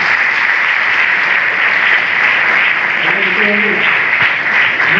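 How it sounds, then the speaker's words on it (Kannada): An audience at an International Women's Day event applauds loudly and steadily for the whole stretch, a dense close wash of clapping with faint voices underneath. "ಅವರಿಗೆ ಜೋರಾಗಿ ಚಪ್ಪಾಳೆ ಮುಖಾಂತರ ಅಭಿನಂದಿಸ್ತಾರೆ"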